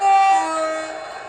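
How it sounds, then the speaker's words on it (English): Two-tone horn sounded on a model railway locomotive's sound system, a short sustained tonal blast that starts loud and fades slightly, with no talk. "Let's try the two-tone horn 2."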